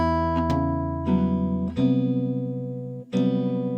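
A brief jazz guitar phrase, bar 9 of a tune, of a few struck chords that ring out, clean and close, with no voices.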